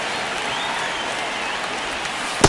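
Stadium crowd noise from an MLB baseball video game on PS5 during a close ninth inning, a steady broadband roar of cheering and applause, with a sharp sudden burst right at the end.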